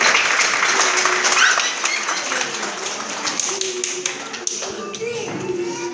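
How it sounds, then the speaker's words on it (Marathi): An audience at a women's ceremony in Maharashtra, held during a portrait-worship ritual, breaks into loud, dense, sustained clapping that fills the room and tapers slightly toward the end. "सर्वांनी जोरदार एकदा टाळ्या वाजवा"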